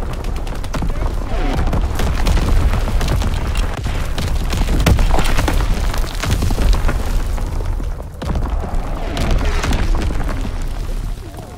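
A strafing run in Call of Duty WWII multiplayer: continuous heavy gunfire and booming explosions pounding loud and close for the whole stretch, with a brief lull before the barrage resumes.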